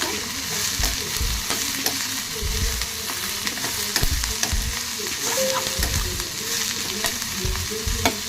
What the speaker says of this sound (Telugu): కాస్త ఫ్రై అవ్వనిద్దాం. ఇలా కలుపుతూ ఉందాం. ఇది కాస్త బ్రౌన్ అయ్యేదాం.